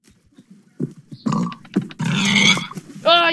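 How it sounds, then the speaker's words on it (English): A pig in Minecraft grunts and oinks several times in short bursts, close and fairly loud, mixed with game hit sounds during a struggle to kill it. "I'm having so much trouble killing this pig!"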